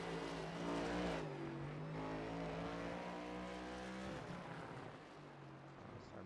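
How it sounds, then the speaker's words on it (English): A NASCAR race car in the iRacing sim drifts and revs through a burnout on the front straightaway at Circuit of the Americas, a loud sustained engine drone with rising and falling pitch, close and steady. "Matthew White still drifting it around and ready to do his burnout here at Coda."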